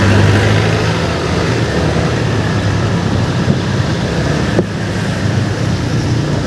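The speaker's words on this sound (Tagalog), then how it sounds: "Lumalakas na yung ulan lalo." Heavy rain pelting down during a motorcycle ride, a loud, steady broadband roar mixed with buffeting wind noise that continues unbroken throughout.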